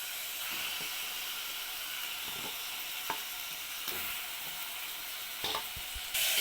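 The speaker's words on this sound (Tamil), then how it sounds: "இப்போ இந்த சிக்கன்லாம் போட்டுடலாம். போட்டு நல்லா வதக்கும்." Chicken with paste and turmeric fries in a pan, a constant close hiss and sizzle broken by occasional stirring clicks and scrapes.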